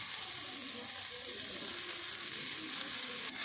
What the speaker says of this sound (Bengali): বেগুন কুচিগুলো একটু ভাজা করে নেব